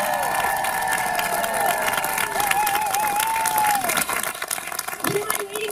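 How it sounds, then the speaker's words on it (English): A theatre audience applauds and cheers to open a youth academy show at a playhouse. Dense clapping runs under excited shouts and a high voice, then thins toward the end. "we will begin the show on your uproarious applause on three"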